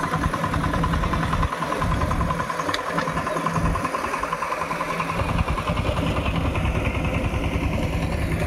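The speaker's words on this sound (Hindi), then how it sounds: "यह ट्रैक्टर चला रही है।" A tractor engine runs steadily nearby, a loud, rhythmic mid-pitched chugging that thumps on without a break, with a faint brief clank partway through.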